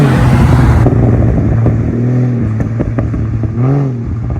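A 600 hp sports car exhaust roars loudly, then settles into a deep burbling idle with rising revs and a few pops and crackles, close by.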